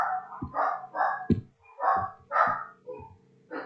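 Several dogs bark in the background of a room, sharp barks arriving in an irregular run of about eight bursts over a few seconds, moderately loud, with no talking.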